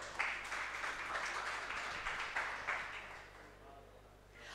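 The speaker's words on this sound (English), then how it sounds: "Oh, don't clap yet." A meetup audience in Paris claps after a web3 developer talk, a moderate patter of applause from a small room that fades away toward the end.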